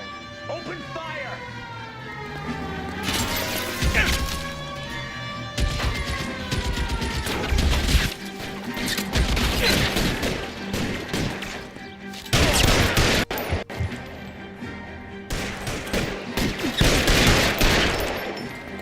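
Heavy gunfire rattles through a shootout in L.A. Noire, with bursts and rapid volleys layered over police sirens and game music, while voices call out intermittently between the shots.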